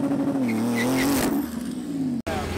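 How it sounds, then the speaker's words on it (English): A rally car at a half-mile event revs hard before a burnout, its loud engine climbing and wavering up close, with a brief cut near the end and crowd voices faintly under it. "All right, big burnout time."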